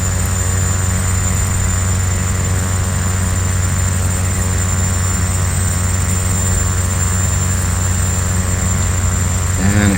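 A Malibu PA46T Jetprop turboprop drones steadily in Flight Simulator X, an even, unbroken engine hum with a constant whine layered over a low rumble.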